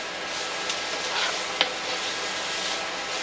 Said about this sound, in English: can't beat onions cooking in butter.